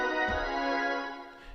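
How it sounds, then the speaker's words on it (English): A single sustained organ chord played in chord mode on a Maschine MK3 rings out steadily for about a second and a half, rich and even, then fades slightly. "And what I did was I got some organ sound"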